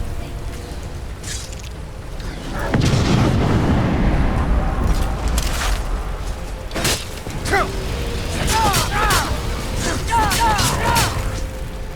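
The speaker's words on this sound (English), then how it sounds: "it's shooting meteors down on us" In Skyrim, the dragon Alduin raining meteors produces deep booming impacts and rumbling blasts, loud and close, with whooshing and crackling bursts scattered across the scene while voices talk over it.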